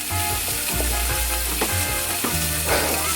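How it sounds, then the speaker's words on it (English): Turkey meat for tacos sizzles and fries steadily in a pan, with occasional stirring and scraping knocks over a constant crackling hiss, close and fairly loud. "I'm going to go ahead and put the turkey in the pan"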